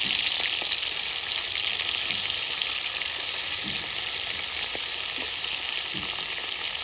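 Marinated prawns sizzle and crackle loudly in hot oil in a wok, a steady close frying hiss with occasional soft stirring taps.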